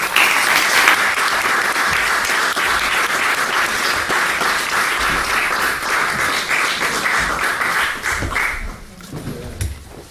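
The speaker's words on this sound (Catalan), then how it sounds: "Un aplaudiment." An audience applauds two speakers after a talk, dense sustained clapping filling the room for about eight seconds before thinning out and fading, with a few scattered claps and faint voices at the end.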